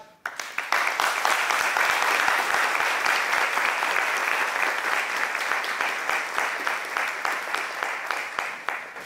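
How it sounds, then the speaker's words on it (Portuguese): Theatre audience applauding during a stage play, a dense, steady wash of many clapping hands that carries on for several seconds. "Eu lhes peço, com a força que vocês ainda têm, aplausos para a nossa cidade."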